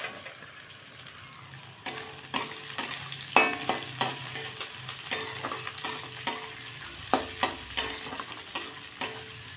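Onion, chilli and garlic frying in oil, a steady sizzle punctuated by a rhythmic series of sharp spatula clinks and scrapes against the pan as they are stirred; no talking.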